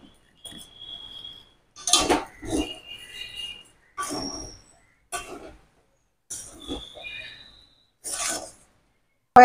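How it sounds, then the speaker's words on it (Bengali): Spiced semolina stirred in a pan, a series of separate gritty scraping strokes from a spoon across the pan bottom, each lasting about a second with short silent gaps between. "এবার ভালো করে নেড়ে চেড়ে নেব।"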